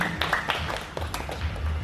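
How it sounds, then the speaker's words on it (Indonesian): Applause from the audience at a workshop on Jegog Tempo Dulu dance, with irregular hand claps close by that stay fairly soft over a brief stretch. "Boleh dong kasih tepuk tangan yang meriah kepada kedua narasumber kita pada hari ini."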